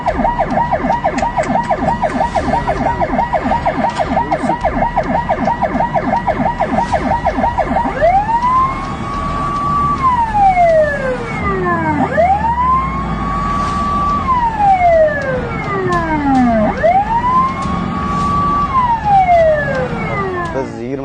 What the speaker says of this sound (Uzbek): Orqamizda tez yordam mashinasi harakatlanib kelib turayotgan ekan.